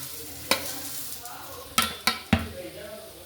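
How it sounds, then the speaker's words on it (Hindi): Vermicelli (sewaiyan) frying in hot oil in a small wok: a constant soft sizzle broken by several sharp metallic clinks and scrapes of a spoon stirring against the pan. "कुकिंग ऑयल जैसे ही गर्म हो जाता है तो इसके अंदर हम ऐड करेंगे सेवइयाँ।"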